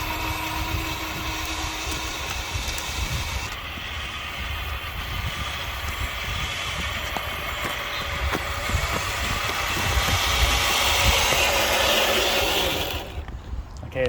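A Traxxas TRX4 Defender RC truck's electric motor runs at full throttle in first gear, giving a steady, even whine and hum that holds for the whole stretch, swells slightly near the end, then cuts off.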